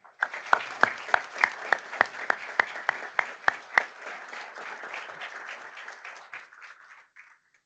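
Applause from the audience welcoming new council members at a solar energy association's inauguration ceremony, opening with sharp, evenly spaced claps over a steady crowd patter that gradually thins and fades out over several seconds.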